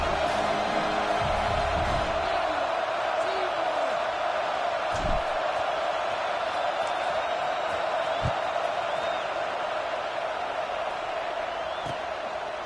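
A steady crowd roar fills a football stadium in the video game Football 26, a broad continuous murmur with occasional distant shouts and thumps, loud and unbroken throughout.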